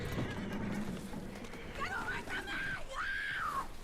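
A horse in the video game Red Dead Redemption 2 gives a loud rising and falling whinny near the end, after earlier snorts and low vocal sounds, over steady background game ambience.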